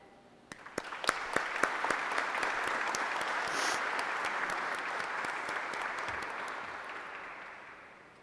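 An audience at a formal ceremonial session bursts into sustained applause for Admiral Campos of the Brazilian Navy, the clapping swelling quickly and holding steady before slowly tapering off, with no talk over it.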